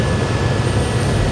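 Helicopter flying high past the summit of Mount Cook (Aoraki), New Zealand: a loud, steady, close rotor and engine roar heard from inside the cabin, with no talk.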